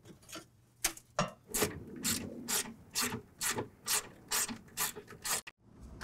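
A hand ratchet drives bolts on a car fender while a windshield washer tank is refitted, giving a close, steady series of rhythmic ratcheting strokes with metallic clicking and no talk.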